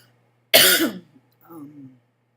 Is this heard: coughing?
yes